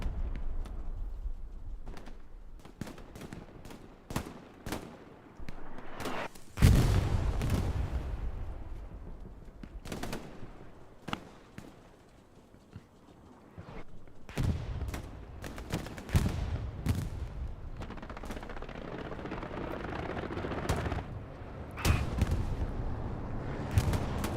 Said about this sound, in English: Opening artillery falls around the hard cap from the Axis. Allied artillery.